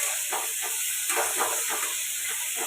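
Potatoes fry in a pan with salt and turmeric, giving a steady, moderately quiet hiss and sizzle that continues throughout with no talk.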